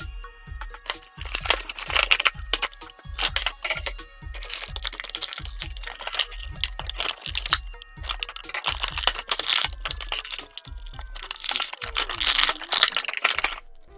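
A Jakks Pacific Sonic movie toy figure being pulled from its plastic packaging, giving dense, close crinkling, crackling and snapping of plastic with repeated sharp clicks and rustles throughout, no talking.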